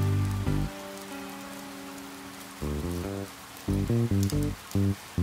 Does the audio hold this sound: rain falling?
yes